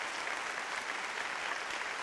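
A studio audience at a New Year's Eve karaoke show claps continuously, a dense even wash of applause throughout with no pauses.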